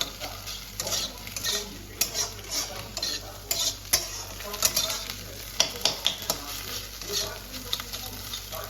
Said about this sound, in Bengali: তো ডিম ভাজা কমপ্লিট।